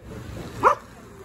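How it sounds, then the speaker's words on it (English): A poodle lets out a single short bark, somewhat distant, amid faint background noise in a store aisle lined with riding lawn mowers. "Poodle barking at me."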